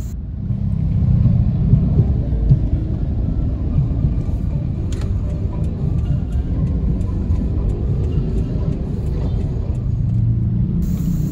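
Congested traffic idles and creeps at a red light in Medan, Indonesia, heard from inside a car as a continuous low engine rumble with faint passing vehicle noise.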